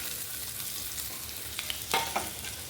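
Mung dal frying in a pan in a small home kitchen: a soft, steady sizzle and hiss close by, with a couple of brief scraping stirs near the end and no talking.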